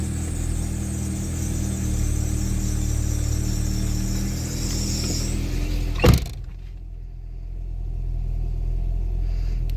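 Mercedes-Benz W124 engine idling cold with slightly raised revs, a steady close rumble and whir holding even for about six seconds before a sharp knock, then a quieter, lower idle.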